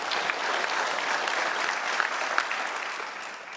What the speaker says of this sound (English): Let's give those 3 a big round of applause